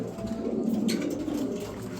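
Soft, low cooing of pigeons close by, a continuous murmur with a brief higher flutter partway through.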